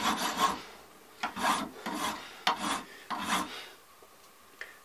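A standard bastard file works a gun buttplate in about five separate, slow, close rasping strokes, each a harsh scrape followed by a brief pause, with no talk.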